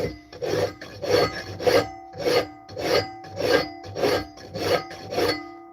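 A hand file rasps over a wrought iron flintlock trigger guard in about ten regular back-and-forth strokes, each a loud gritty scrape separated by brief pauses, close up with no talk.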